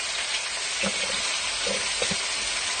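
Meat sears in a hot pan, giving a steady close hiss of frying with a few brief crackles and spits rising over the sizzle, with no voices.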